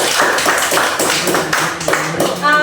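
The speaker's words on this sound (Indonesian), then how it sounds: "Berikan tepuk tangan dulu lagi buat Rina." A class of students claps for a classmate in a schoolroom, a quick burst of close, sharp handclaps running on steadily with a few louder taps standing out.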